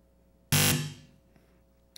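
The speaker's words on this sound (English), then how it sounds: "That buzzer means the end to the joust." A single loud, harsh quiz game buzzer blares for a moment at a high school quiz competition, then rings out and fades, followed by near silence and a faint click.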